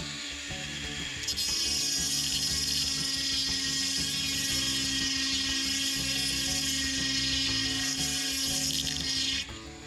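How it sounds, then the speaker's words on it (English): Dremel rotary tool fitted with a handheld chainsaw sharpener grinding a Forester chain saw blade for a Husqvarna 323R brush cutter, a steady high-pitched whining grind that starts abruptly and runs for several seconds before cutting off, close and alone. "I use a portable handheld chainsaw sharpener with my Dremel tool"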